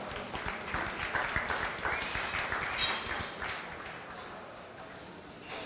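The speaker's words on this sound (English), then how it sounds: "Let's give that young man a round of applause." An audience at a county fair goat show applauds in a soft, scattered patter that fades after a few seconds, heard from a distance.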